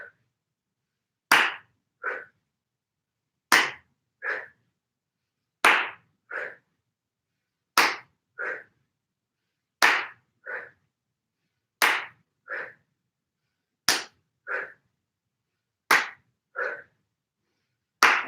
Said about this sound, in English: We inhale, hands clap above the head.